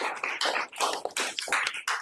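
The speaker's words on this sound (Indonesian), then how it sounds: "Ya, beri tepuk tangan." A classroom group applauds in quick, uneven bursts of hand claps, fairly close and moderately loud, with no talking over it.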